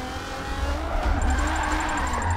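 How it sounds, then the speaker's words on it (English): A Nissan 370Z drifting on a public street, engine revving hard through a clutch kick in third gear as the tires squeal loudly and continuously, with a high whine running underneath. "Trying to clutch kick that a little bit."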